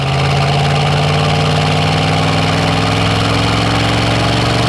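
A 1965 Ford Mustang's 302 V8 runs steadily at close range, a loud, even low rumble with a throbbing mechanical pulse and no talk over it.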